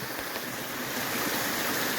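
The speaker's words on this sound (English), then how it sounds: "this mountain stream is cut right into it. It's creating these waterfalls" A mountain stream cutting through marble on Mount Greylock rushes over small waterfalls, a dense, steady broadband roar of flowing water, close and continuous with no voices.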